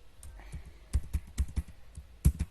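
Keys clatter on a computer keyboard as text is entered into an Excel spreadsheet: irregular bursts of close, crisp keystrokes with brief gaps and no speech.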